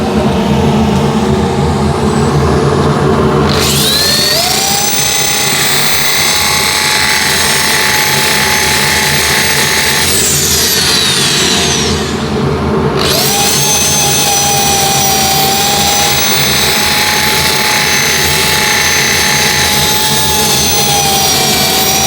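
A big wooden bowl being sanded while it spins on a wood lathe gives off a loud, steady whirring roar with a high hiss, briefly changing around the middle before the same drone resumes. No one talks.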